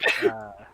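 A single sharp sneeze during a casual livestream chat, brief and close, quickly tailing off with a voiced sound.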